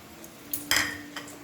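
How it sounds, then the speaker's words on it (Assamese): A spoon clinks and scrapes against a pot of chicken curry as garam masala is mixed in, a couple of brief metallic knocks, soft and close. "মই ইয়াতে অকণমান গৰম মছলা মিলাই দিছোঁ"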